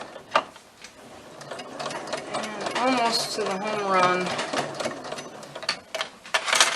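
A sewing machine runs in short bursts while back stitching fabric for a pencil bag, its mechanical whir mostly beneath someone talking.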